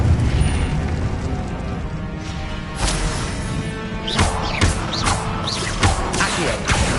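Incendio fire spells strike targets in Hogwarts Legacy, a run of sharp whooshing bursts and booming impacts over a dense, continuous game soundscape, with the hits clustering toward the end.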